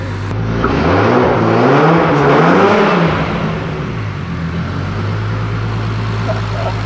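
Fully built Nissan R33 engine running, revving up with a swelling, wavering roar over a couple of seconds before dropping back to a steady, loud idle.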